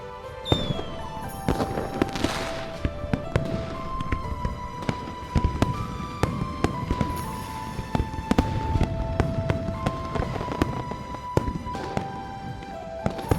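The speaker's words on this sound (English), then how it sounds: "There will be fireworks over the river tonight." Fireworks over a river in the video game Love and Deepspace pop and crackle in a steady stream of sharp bursts, layered over soft sustained music tones.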